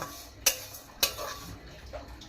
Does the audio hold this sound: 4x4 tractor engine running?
no